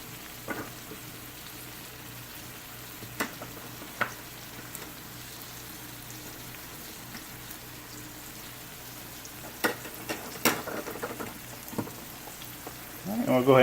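Torn, roughly chopped spinach and greens frying in a skillet, a soft steady sizzle with occasional louder pops and crackles, the stirring rising toward the end.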